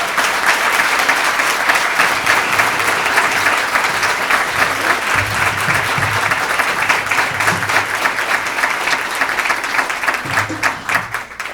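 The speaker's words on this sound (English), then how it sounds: "Please give them a round of applause." Sustained, loud applause from a breakfast audience at a charity event, a dense, even wash of many hands clapping without pause for over ten seconds, with a faint murmur of voices low underneath.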